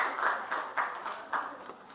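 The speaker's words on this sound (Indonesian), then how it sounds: "terima kasih tepuk tangan untuk semuanya" A small group in a classroom claps briefly, a short burst of light, uneven hand claps fading within two seconds.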